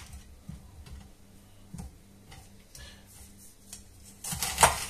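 Knife chopping onion on a cutting board, with soft, irregular close taps and a louder clatter near the end.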